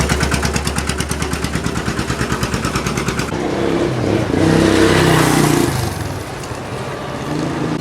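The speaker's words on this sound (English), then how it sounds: "As old trucks like this go by" Old trucks near the Mae Sai border crossing drive past close by, first a loud rhythmic diesel chugging, then a surging roar of engine and road noise that swells and fades.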